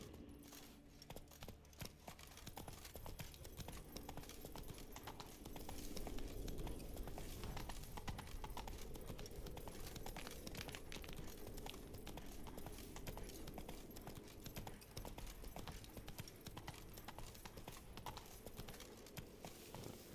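Roach, a horse in The Witcher 3, trotting: a steady, fairly faint clip-clop of hooves that keeps going without a break over low background ambience.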